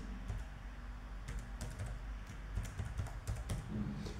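Typing on a computer keyboard while entering a title in PowerPoint, with irregular bursts of light key clicks, close and fairly quiet, no one speaking.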